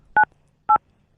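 Telephone keypad tones beep three times at an even pace, each short, clean and loud, with near silence in between.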